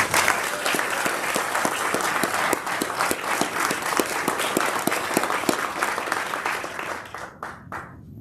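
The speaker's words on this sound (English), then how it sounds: "Please join me in a round of applause for these outstanding team members." An Army Futures Command town hall audience applauds honored team members, loud and close, with sharp individual claps standing out in a steady rhythm before the clapping thins out and stops.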